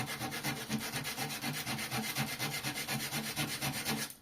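Quick, even strokes of sanding rasp across a dry pine cone, a steady rhythmic scratching at roughly four strokes per second that stays close and moderately loud throughout.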